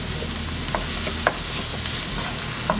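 Sausage ingredients with garlic-cilantro paste browning in a pan, a steady sizzle broken by a few sharp spoon clinks and stirring scrapes.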